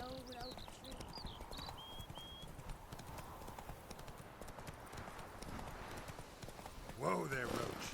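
Hooves of the horse Roach walking in The Witcher 3 sound as a steady clip-clop, with game music and a voice over it and a brief whinny near the end.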